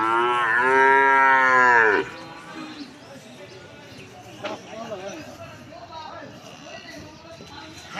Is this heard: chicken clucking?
no